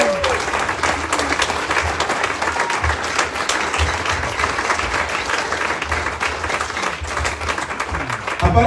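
A church congregation applauds at a chaplain graduation in Reno, Nevada, loud sustained clapping from a full room with a low hum and faint voices mixed beneath.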